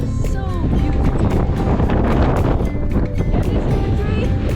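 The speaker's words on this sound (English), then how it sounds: "It's too windy." Strong wind buffets the microphone on an exposed beach, with a loud, constant rumbling roar and gusty thumps throughout, and a voice speaking faintly beneath it.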